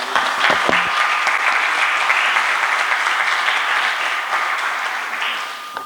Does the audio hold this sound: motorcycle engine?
no